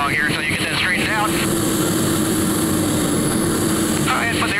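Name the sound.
airplane flying at an airshow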